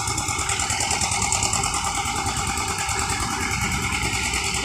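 Vehicle engines idle in a traffic jam on Jalan Soekarno-Hatta in Palembang. There is a steady, dense droning hum of motors with no break for several seconds.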